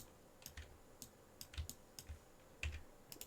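Computer keyboard typing during 3D mesh work, sparse quiet keystrokes and clicks at an irregular rhythm, close but faint, with no talk.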